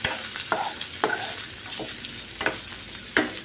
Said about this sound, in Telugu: ఇవన్నీ వేసుకుని బాగా వేగించుకోవాలండి. ఒకసారి మిక్స్ చేసుకుందామండి ఇవన్నీని.